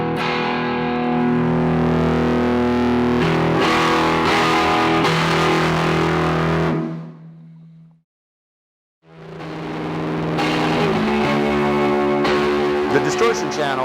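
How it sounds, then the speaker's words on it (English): An electric guitar plays through the distortion channel of a Maekloeder Dual Channel 5000 amplifier, voiced for modern rock, giving loud, sustained, growling chords. The sound fades to silence partway through, then the playing comes back. "The Distortion Channel is designed around more of a modern rock and roll guitar amplifier"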